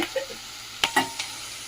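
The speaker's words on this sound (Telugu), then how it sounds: "కొంచెం పసుపు పసుపు వేసుకొని కొంచెం అలా కలుపుకోవాలి" Fried onions and green chillies being stirred with turmeric in a pan for chicken curry, a low steady sizzle broken by a few sharp clinks and scrapes of the spoon.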